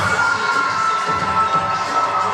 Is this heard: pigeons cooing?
no